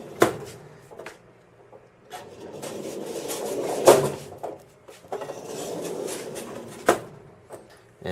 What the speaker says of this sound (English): take this big ass magnet and hold it up to this filing cabinet door